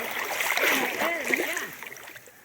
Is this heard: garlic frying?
no